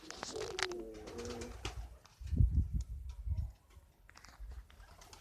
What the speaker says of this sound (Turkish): Arkadaşlar güvercin var.